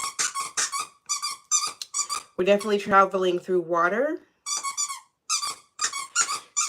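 A puppy squeaks a squeaky toy in a burst of rapid, tonal squeals lasting a couple of seconds, close and loud, with someone talking before and after.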